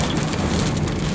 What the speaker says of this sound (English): Now I'm starting to get some big drops of rain here now